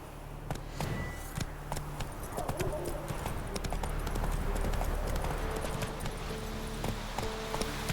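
Horse galloping in the video game The Witcher 3, a steady rhythmic run of close hoofbeats with faint game ambience, no talk over it.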